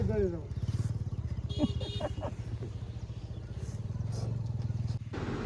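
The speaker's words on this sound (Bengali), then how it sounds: "বাইকে আস্তে আস্তে নিগাও কাকা" A motorcycle engine putters steadily throughout at close range, its low throbbing rhythm running under brief bits of talk, the bike carried aboard a boat crossing a river.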